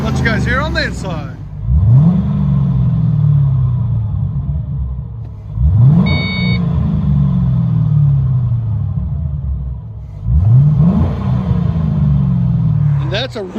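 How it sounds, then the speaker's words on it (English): A 2005 Ford Mustang GT 350R V8 with Flowmaster Outlaw dual exhaust, heard from inside the cabin, revs three times, each a quick rising bark that settles into a deep, rumbling decay. "Let you guys hear on the inside."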